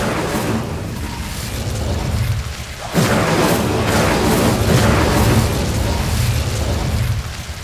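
A fire spell, Incendio, cast in the Hogwarts Legacy video game bursts out with a sudden loud whoosh and crackling roar about three seconds in, continuing as sustained flame over rumbling background game sound.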